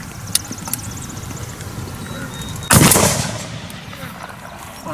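Confederate infantry reenactors at a Gettysburg drill fire a musket volley by file, a loud sharp blast that rolls into a crackling, decaying roar over open ground, with a few faint distant pops before it.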